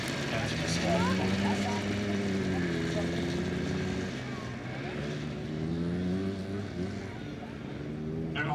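Military motorcycles ride over jump ramps at a P 7 regiment open day, their engines droning and revving up and down in long sweeps, fairly close and continuous throughout.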